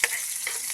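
Garlic frying in a pan, a brief bright sizzle with a couple of small crackling pops, close and fairly loud.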